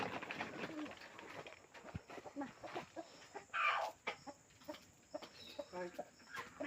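Chickens cluck and chirp in short bursts at close range, with people talking intermittently nearby.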